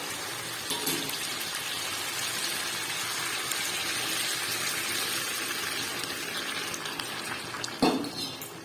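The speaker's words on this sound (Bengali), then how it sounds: "আমি এটার মধ্যে জল গরমটা দিয়ে দেবো" Hot water pouring steadily into fish curry in a pan, a continuous loud gush that fills the whole stretch, ending with a brief clink near the close.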